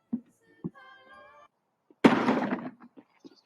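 A grenade in an online shooter game goes off as a single sharp, loud blast with a short rumbling tail, after faint clicks and a brief tonal in-game sound.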